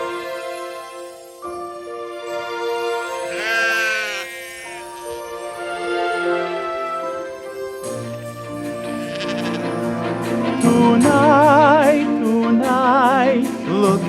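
Sheep bleating among shepherds out in the fields at night, several wavering cries rising one after another over music and layered voices, growing louder and busier toward the end.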